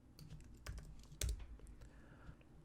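Typing on a computer keyboard while setting up an Instagram feed widget, a short run of quiet, close key taps with one firmer stroke in the middle, with no talking.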